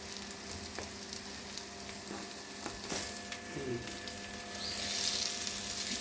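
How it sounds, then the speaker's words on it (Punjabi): Masoor dal kebabs sizzle and fry in a pan until crispy, a steady close crackle with occasional spatters and light stirring clinks, no talking. "ਇਸੇ ਤਰ੍ਹਾਂ ਇਹਨਾਂ ਨੂੰ ਪਰਤ ਕੇ ਤੇ ਕ੍ਰਿਸਪੀ ਹੋਣ ਤੱਕ ਇਹਨੂੰ ਫਰਾਈ ਕਰ ਲਾਂਗੇ"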